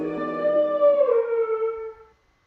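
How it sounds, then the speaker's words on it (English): A fearsome beast in a horror video game howls close by, a single sustained, tonal cry that swells, bends downward and fades out over about two seconds. "Very close by, the howl of some kind of fearsome beast roars outside of the open window."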